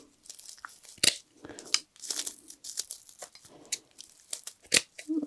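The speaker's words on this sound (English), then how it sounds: "Now we can just cut through those extra loopy loops." Scissors snip and crunch through the extra loops of a small handmade craft broomstick, a quick, irregular run of close, crisp cuts and rustles with brief pauses between them.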